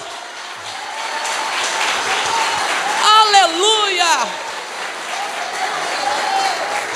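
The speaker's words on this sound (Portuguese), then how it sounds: "Você pode aplaudir o Senhor Jesus?" A church congregation applauds steadily while a voice shouts out over the clapping in a rising, sung exclamation midway through.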